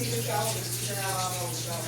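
Sharp automatic washing machine filling with water during a deep cleaning, a steady rushing gush close by with a low hum underneath, running continuously.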